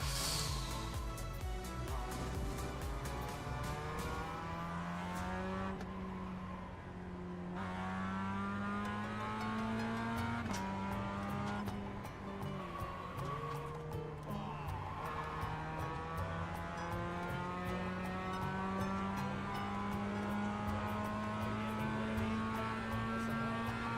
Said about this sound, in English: I do love this little car. It sounds so good.